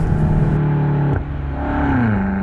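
A BMW M8 Competition's engine pulls up smoothly through its eight-speed gearbox, a steady close drone that climbs in pitch, with one brief dip near the middle as it shifts before rising again; no one speaks.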